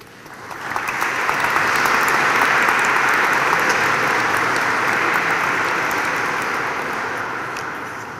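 An audience applauds a speaker and translator at a priests' retreat in Łódź, the clapping swelling within the first second into dense, sustained applause that holds steady before easing slightly at the end.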